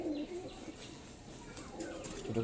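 Madras pigeons coo softly in a loft, low murmuring calls repeating faintly over a quiet background.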